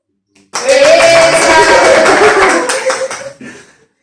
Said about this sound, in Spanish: Bueno, esta oportunidad tenemos a alguien muy especial. Aplausos.